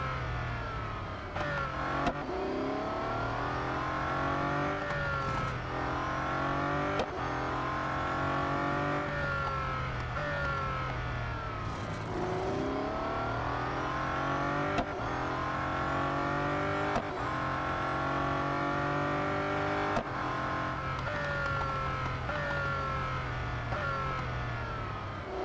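A Bugatti Centodieci races around a circuit in Real Racing 3. The engine note is loud and continuous, with repeated rising and falling gear changes and a few short sharp breaks in the sound.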